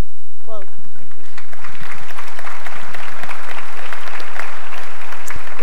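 An audience at an intelligence summit applauds, a steady burst of clapping that starts after a brief spoken word and carries on loudly for several seconds.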